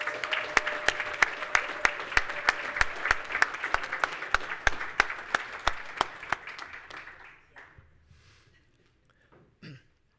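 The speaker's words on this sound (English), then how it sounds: "Let's give another round of applause to all our new ISSA International Fellows." Applause at an international awards gala honouring new ISSA Fellows: a room of hands claps steadily, with crisp separate claps, then fades out to near silence, followed by a brief cough or throat clearing.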